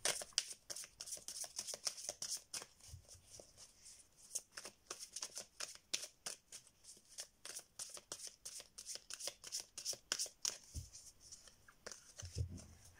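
Tarot cards being shuffled and laid out in a quiet room, a dense run of crisp riffling flutters and soft slaps that continues steadily for the whole stretch, close and fairly faint, with no voice over it.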